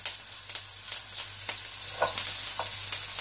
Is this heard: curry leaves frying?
yes